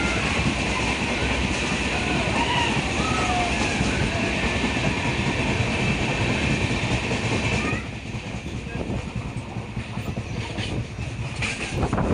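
A passenger train climbs through the Satpura hills, a loud continuous rumble with rhythmic clickety-clack of the wagons, easing slightly quieter toward the end.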